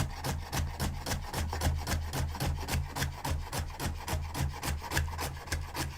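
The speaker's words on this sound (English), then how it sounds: "So I'm going to chop up some celery, real thin slices of celery I'm going to put on top here." Celery chopped into thin slices on a wooden cutting board, a fast steady run of sharp knife taps, roughly three to four per second, close and fairly loud with no talking.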